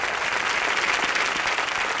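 A studio audience at a live Colors TV comedy show bursts into loud, dense applause that holds steady without a break.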